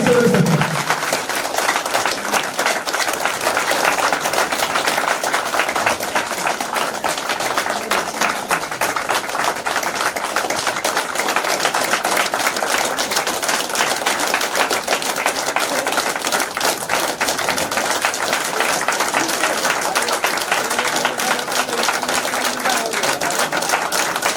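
Audience clapping at a company leadership training event in Mount Abu, a long steady stretch of dense, sustained applause at close range with no speech over it.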